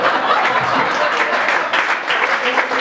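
Applause from a small audience at a comedy show, dense and steady throughout with some scattered laughter mixed in.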